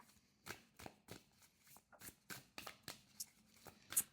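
A tarot card deck is shuffled by hand in a quiet room, a series of soft, crisp riffling bursts at an irregular rhythm, close and faint, with no talking.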